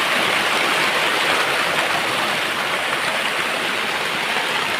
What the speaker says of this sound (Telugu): వర్షం అయితే భారీగానే వర్షం అయితే పడతా ఉంది